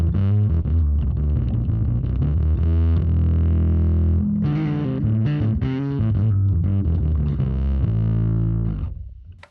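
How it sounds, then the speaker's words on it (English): Heavily fuzzed, gnarly distorted bass played through a Fractal FM3/FM9/Axe-FX III amp modeler with bass turned down and gain and master volume up, loud and sustained with a dense buzzing tone and shifting notes, alone until it cuts off. "a really cool fuzzed out gnarly sound that you are capable of getting just by taking the bass all the way down, gain and master volume all the way up"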